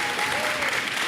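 Esports crowd at a League of Legends match applauding and cheering, a dense, steady wash of clapping that fills the whole moment at full volume.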